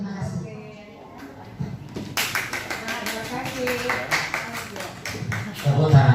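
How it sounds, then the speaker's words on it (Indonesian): A group in a classroom or meeting room bursts into applause after a voice speaks, with brisk, close clapping that builds and continues to the end. "Tepuk tangan untuk semuanya."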